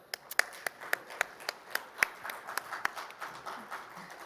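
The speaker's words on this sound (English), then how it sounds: "give him a nice round of applause" Light, scattered applause from a small audience, with claps popping out unevenly against a soft background.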